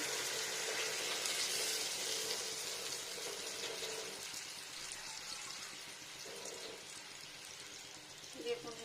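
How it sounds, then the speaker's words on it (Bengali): Fish is rinsed under running water for a spicy Bengali mustard curry. The water splashes and trickles steadily close by, with a few brief changes as the fish is handled. "জল দিয়ে ধুয়ে নেবো আর একটু জল"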